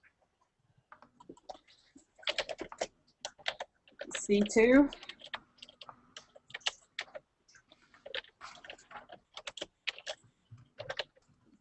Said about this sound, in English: your keyboard is very noisy this evening